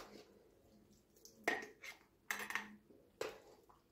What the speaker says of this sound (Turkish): Biraz kaşıkla şöyle bastırıyorum.